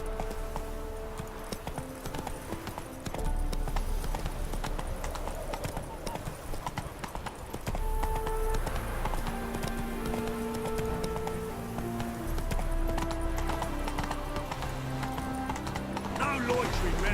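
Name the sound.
horse hooves trotting, from video game The Witcher 3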